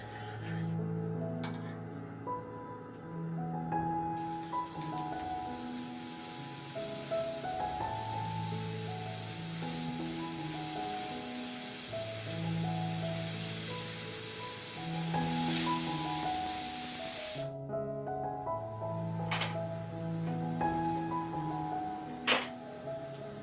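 A pressure cooker on a home kitchen gas stove releasing steam after one whistle: a long, loud, steady hiss rises and runs for roughly thirteen seconds, then cuts off, with gentle music playing throughout.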